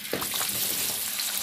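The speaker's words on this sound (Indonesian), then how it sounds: "saya akan goreng dulu nih kentangnya sampai matang" Potatoes frying in hot oil give a steady, dense sizzle with a few stirring clatters near the start, close and continuous with no talk.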